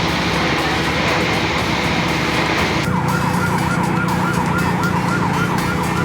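Fire engine sirens wail loud and steady at a car fire on a blocked highway, one rising-and-falling siren layered over another constant tone, with heavy traffic rumble underneath.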